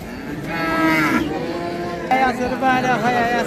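Cows low loudly and close by at a busy cattle market in Rajshahi, with two drawn-out moos following each other and human voices chattering underneath.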